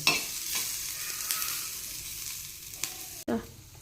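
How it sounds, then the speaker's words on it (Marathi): Ingredients for mutton rasa sautéed and roasted in a pan give a steady, fairly quiet sizzle with a few spoon scrapes and a sharp knock near the end, close by and without speech. "याला परतून घ्यायचा आणि जास्त लाल न होता साधारणपणे भाजून घ्यायचे।"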